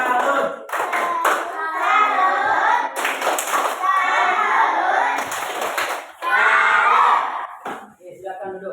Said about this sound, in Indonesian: sekarang mari kita kasih tepuk salutnya